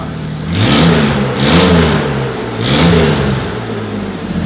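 A lowered Ford Explorer drift car fitted with a locking differential starts for the first time, and its engine revs loudly and close in three surging bursts over a rough idle.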